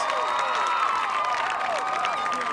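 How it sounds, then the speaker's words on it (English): A crowd at an American Ninja Warrior qualifier cheering and whooping steadily, a dense, fairly loud roar with shrill voices rising over it. "the crowd going nuts, and I am too"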